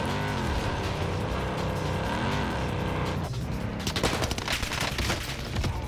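Automaton rifle in Warzone Pacific firing in loud sustained bursts of rapid shots near the end, over dense constant game noise with engine-like drone, no talking.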